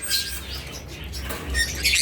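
Pet birds, red-eyed albino and lutino pairs, chirping in short bright bursts at a breeder's setup, with a steady low hum underneath.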